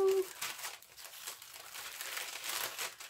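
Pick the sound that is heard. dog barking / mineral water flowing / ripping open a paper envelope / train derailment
ripping open a paper envelope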